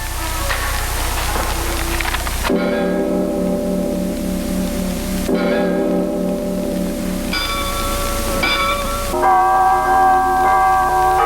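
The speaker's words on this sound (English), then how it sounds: "The bells are so loud that they drown out everything." Church bells peal loudly and continuously, several tuned bells overlapping in changing patterns, ringing close and dominating the scene with no voices.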